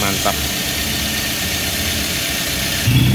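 A car engine idling while the cooling system is checked for overheating caused by air getting in, a steady mid-pitched hum close to the mic with a brief louder knock near the end; a voice speaks over it.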